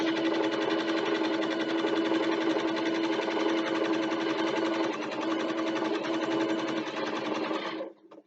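A sewing machine stitches the lining onto a bookbag backpack in one long, steady, rapid run of stitching, then stops abruptly near the end.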